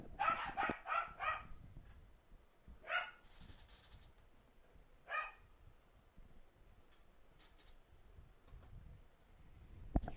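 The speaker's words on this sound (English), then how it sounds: "And that would be the sound of my dogs barking hysterically." Dogs bark in a quick burst of several yaps, then a few scattered barks follow at a distance amid quiet room noise.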